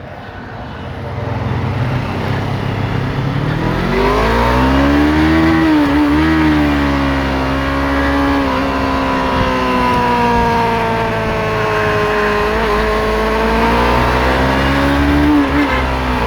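A motorcycle engine revs and drones loudly and continuously in busy traffic, its pitch climbing and falling in sweeping waves as the throttle opens and eases, with steady road and wind noise beneath.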